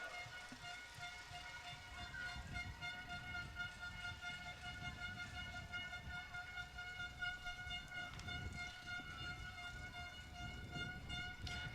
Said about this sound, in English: As the air horns and the noisemakers out here heavy this evening